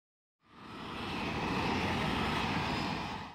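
A fixed-wing airplane engine fades in quickly and holds a broad, steady roar before easing slightly at the end, heard alone with no voices.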